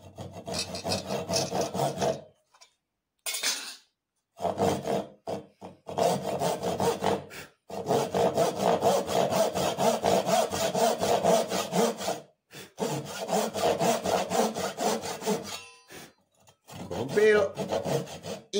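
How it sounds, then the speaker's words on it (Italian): A hand saw makes the final cut through a piece of wood in a woodworking school, with loud rhythmic back-and-forth strokes in several bursts separated by short pauses. "quindi facciamo l'ultimo taglio."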